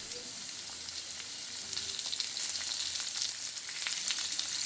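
Potatoes and peas fry together in oil and are stirred. A dense, bright sizzle is punctuated by frequent scraping stir strokes, and the sound swells slightly louder toward the end.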